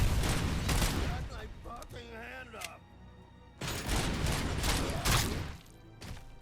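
Bursts of gunfire in the video game Robocop Rogue City, loud and rapid, broken by a short lull with tonal game sounds, then more heavy shooting and impacts.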